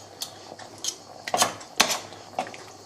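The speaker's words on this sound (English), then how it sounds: "I'll just cut these tomatoes up because we want them kind of like chopped tomatoes" A knife chops whole tomatoes into pieces on a cutting board, giving a handful of sharp, irregular knocks and taps, close by and clear against a quiet room.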